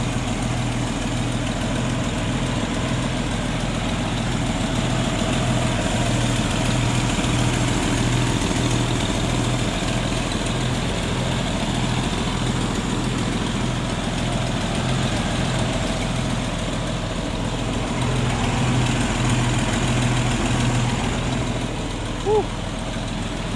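A 1984 Toyota Land Cruiser fire truck conversion's large engine idles steadily with a deep, even rumble throughout, close by, with faint voices briefly underneath.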